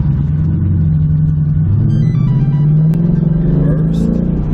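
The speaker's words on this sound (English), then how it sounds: "let's take it around the block, see if we can notice a difference driving" A Ford Mustang S550 with an MT-82 manual transmission driving from inside the cabin, its engine note droning loud and steady. The pitch climbs gradually as it accelerates.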